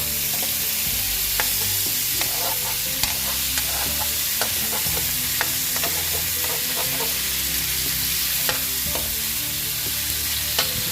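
Pork adobo fries in its own rendered fat in a pan, a loud continuous sizzle broken by repeated scraping and clinking stirs of a utensil, close and without speech.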